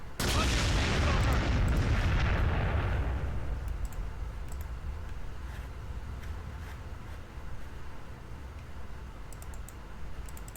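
Artillery fire in the wartime strategy game Close Combat: The Bloody First, a loud broadband blast that booms for about three seconds and then fades into a lower, sustained rumble of battle noise with faint clicks.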